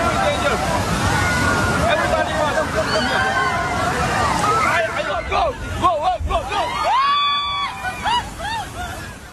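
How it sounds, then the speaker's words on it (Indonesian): Violent ocean waves crash and slosh at Bilabong beach on Nusa Penida, Bali, a loud churning roar under a babble of excited voices, with distinct shouts and cries rising over the surf toward the end. "Sebuah video amatir merekam ganasnya ombak pantai Bilabong, Nusa Penida, Kelungkung, Bali"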